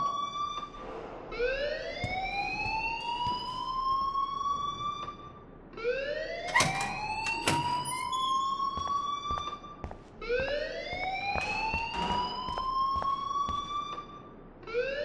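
A rising and falling siren-like alarm from the video game Life is Strange, sweeping upward in three loud, repeated wails that each hold a high, steady tone before cutting off.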